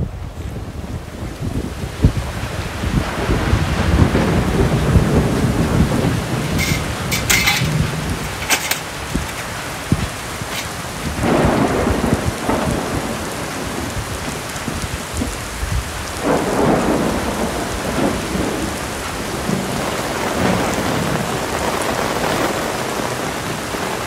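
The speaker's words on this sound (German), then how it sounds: "Sieht ja aktuell danach aus, als wird heute Abend wieder heftiges Gewitter geben." A heavy evening thunderstorm on the French coast at Le Grand Crohot, with steady rain drumming, gusts buffeting the microphone and several deep thunder rumbles rolling in over about twenty seconds.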